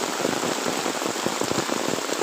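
Steady, heavy rainfall drums on a village vegetable patch of eggplant plants: a thick, continuous close-up hiss of drops with slight surges in strength and no talking.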